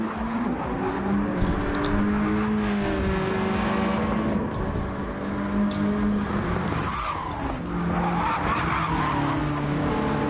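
A race car slides through the S-corners in a GTCA Championship Series race. Tires squeal and skid loudly and without a break over several layered engine drones that rise and fall in pitch, with no voices.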